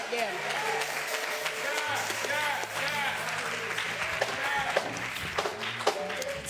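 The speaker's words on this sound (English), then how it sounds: "Clap your hands and give God some praise right there." A church congregation claps along in praise, a steady dense patter of hands filling the room with talk and music underneath.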